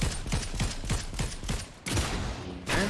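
Enemies in Fortnite fire repeated shots at a player holding a blocking guard, a quick run of evenly spaced gunshots followed by a couple of louder impacts, fairly close and with no talk.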